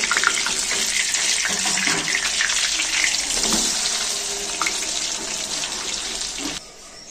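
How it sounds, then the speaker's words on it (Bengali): Fish pieces sizzle steadily in hot oil for chilli fish, a dense continuous frying hiss with a few soft clatters as the pieces are turned, close and loud, ending in a sudden drop near the close. "এক পিঠ ভাজা হয়ে গেছে লাল লাল করে। আমি উল্টো পিঠটাও ঘুরিয়ে দেবো।"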